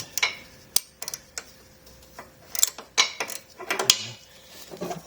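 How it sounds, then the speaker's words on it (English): A ring socket wrench works on a bolt in a home garage, giving a series of sharp metallic ticks and clinks in an irregular rhythm, close and fairly loud. "I wonder if we can get a ring socket on that."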